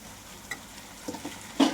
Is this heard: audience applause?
no